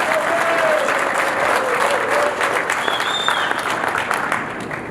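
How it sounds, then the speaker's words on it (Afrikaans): Steady, full applause from a reunion audience of the 24 Squadron SAAF Buccaneer association, a dense wash of many hands clapping throughout with a few faint whistles mixed in. "Kom ons gee hulle 'n lekker hande klap."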